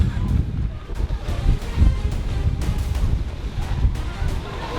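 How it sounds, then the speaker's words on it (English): Large, powerful sea waves surge and crash in a steady roar of rolling surf, with heavy wind buffeting the microphone and a few faint voices mixed in. "Never underestimate the sea."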